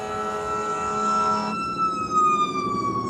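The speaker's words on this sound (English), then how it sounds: "them sirens be just, I don't even want them to come on, but they be right there when I say certain things" An emergency vehicle siren wails outside, a steady tone that abruptly shifts to a sliding pitch sweep, fairly loud and heard without talk.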